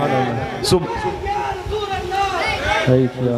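At a religious gathering, a crowd shouts its answer to a slogan, a loud mass of voices calling out together in surging waves, ending with a stronger swell of shouting.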